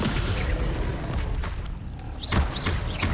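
Descendo spell effect from the video game Hogwarts Legacy, a heavy booming thud and slam within dense, continuous game combat noise, with bright whooshing spell tones near the end.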